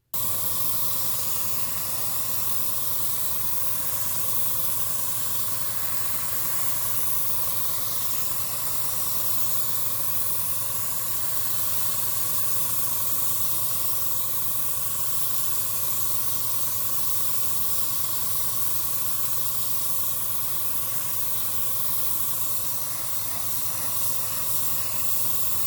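An airbrush sprays Vallejo Model Air Sky Blue base coat onto a USS Enterprise-D plastic model kit, a steady loud hiss that holds without a break from start to finish.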